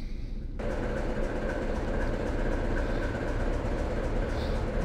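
A special train pulls away on the Chatham Main Line in a steady, continuous rumble of rail and engine noise that stays loud and close throughout, with no talking.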